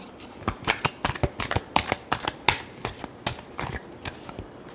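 Tarot cards being shuffled in a burst of quick, close riffling snaps, repeated in a brisk irregular rhythm with no talk.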